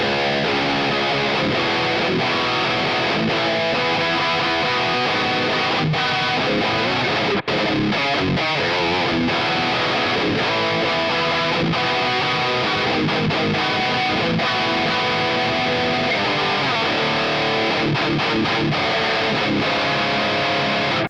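A Legator N6X electric guitar played through its voice 2 setting, with lighter compression. Dense, distorted chords and riffs ring continuously and loudly for about twenty seconds, with a brief break partway through.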